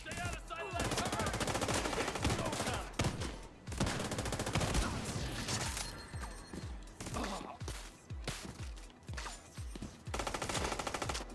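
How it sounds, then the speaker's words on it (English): Rapid automatic turret fire in The Division 2, loud sustained bursts of gunshots with brief gaps, continuing in rattling volleys throughout. "Stay out of sight of that turret!"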